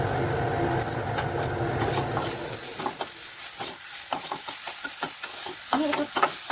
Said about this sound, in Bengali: তখন আমি এখানে আদাটা দিয়ে দিলাম